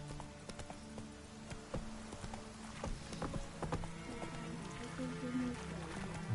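A horse's hooves clip-clop at a steady gallop in the fantasy game The Witcher 3: Wild Hunt, a continuous rhythmic patter close by with faint rain-like texture and a brief whinny near the end, alongside occasional player talk.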